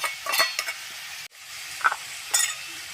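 Ground ginger, garlic and pepper go into chicken frying in a pan, with a short burst of sizzle and stirring scrapes, a brief drop, then renewed hissing and clinks.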